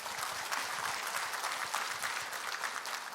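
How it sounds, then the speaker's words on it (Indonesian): A seated audience claps steadily at a company introduction talk, a dense, even wash of applause lasting a few seconds with no speech over it. "Tepuk tangan."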